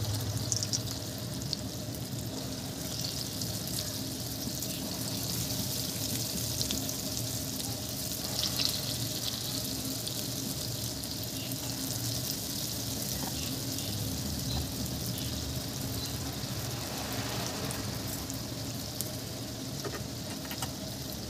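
Urad dal vada batter frying in hot oil in a wok makes a dense, continuous sizzle and bubbling that holds steady throughout, close and moderately loud, with no talking.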